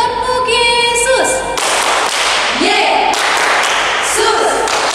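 Children at an online Sunday school service clap the rhythmic 'tepuk Yesus' pattern, sharp bursts of claps and thuds coming in short groups between sung or spoken voices.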